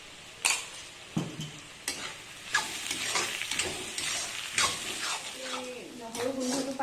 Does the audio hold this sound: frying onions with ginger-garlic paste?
yes